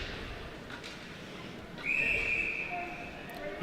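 Referee's whistle at a men's college ice hockey game against Virginia Tech, one steady shrill blast of about half a second, moderately loud over arena crowd noise.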